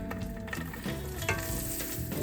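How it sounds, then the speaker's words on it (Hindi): Sesame and hemp seeds roasting in a pan give a dense, continuous sizzle with scraping stirs throughout, close and fairly loud, with no talk. "इसको हम करेंगे थोड़ा रोस्ट और ये हेम्प सीड और बाकी सीड्स भी आ गए इसके अंदर।"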